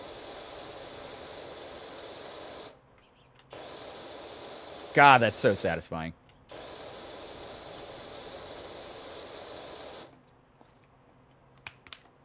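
Spray nozzle giving a wide, powerful spray that hisses steadily for a few seconds, cuts out, then returns for several more seconds, with a brief burst of splashing and a voice speaking in between.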